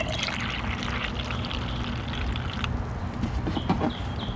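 Tap water pours steadily into a Honda Civic's radiator during a coolant flush, a continuous splashing gush running close up and fairly loud for several seconds, with a few sharper sloshes toward the end.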